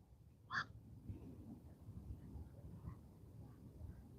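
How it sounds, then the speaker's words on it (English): A single bird calls once outside at night during a fishing trip, a short distant cry over a low, faint rumble of wind and ambient noise. "There's a bird out there."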